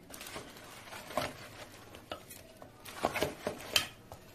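Fried gavvalu being stirred into thick jaggery syrup in a heavy pot, giving irregular clinks and scrapes of a spoon against the vessel with soft sticky squelches, close and moderately loud.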